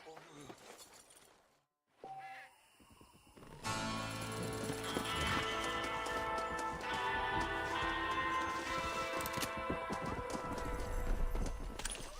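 A horse's hooves clip-clop at a steady pace in a Western-style video game, amid game sounds and music after a short quiet gap.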